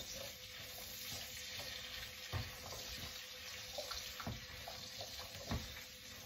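Bell pepper hits a hot pan of vegetable stir-fry and crackles in a steady loud sizzle, with occasional sharp knocks of a utensil stirring against the pan and no talking.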